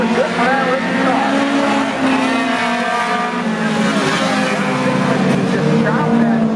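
Dirt-track race cars at Brewerton Speedway during heat racing roar steadily around the oval, a dense, loud engine drone with rising and falling pitch as cars pass, a commentator's voice running over it.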